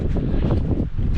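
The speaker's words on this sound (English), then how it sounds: "The summit is no joke. It's so windy and so cold." Strong, roaring wind buffets the microphone on a cold Mount Success summit in New Hampshire along the Appalachian Trail, a dense low rumble that barely lets up for the whole moment.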